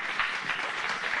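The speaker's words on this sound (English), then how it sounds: "Give them a nice round of applause, you guys." A studio audience applauds a guest from a band on a TV show, with brief, steady clapping from a smallish crowd close by and no talking over it.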